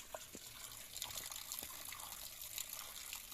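Cold water pours steadily from a stone cow-mouth spout at a temple, a soft continuous splashing and gush heard at a moderate distance, with a few faint knocks and no voices.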